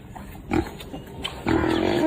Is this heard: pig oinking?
yes